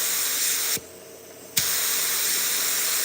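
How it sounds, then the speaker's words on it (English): A Sun Pro paint spray gun lets out a loud, steady hiss of spraying, broken by one brief pause of under a second before the spray resumes and carries on to the end. "That's about how I spray right there."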